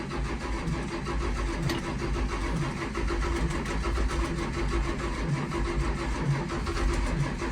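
Bus engine cranking over on a cold start, a steady rhythmic starter churn with low engine chugging running the whole time, close and moderately loud with no voices.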